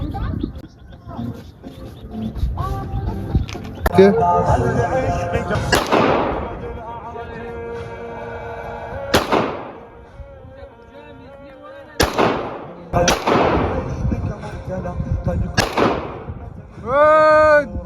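Several loud gunshots crack one at a time at an outdoor shooting range aimed at bottle targets, each a sharp blast with a short decay, spaced a few seconds apart, with people talking between the shots.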